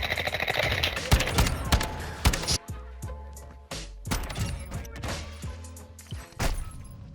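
Rapid bursts of automatic gunfire and single sharp shots in a shooter video game, loud and close with thumps and crashes mixed in, some near and some more distant.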